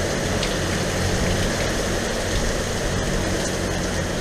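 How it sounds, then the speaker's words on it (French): Heavy tropical downpour pounds a sailboat at sea near Nevis, a dense continuous roar of rain on deck with a low engine-like rumble underneath, loud and unbroken. "Même les grains aux Antilles, il pleut pas autant que ça"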